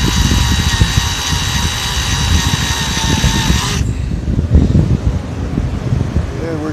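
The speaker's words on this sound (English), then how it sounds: "The cutting head is starting to cut through that material there" A drill's cutting head bores through a bolt in the driver pad of a Clarke OBS-18 orbital sander, giving a steady, close, high-pitched whine that cuts off abruptly partway through, leaving a low rumble and handling noise.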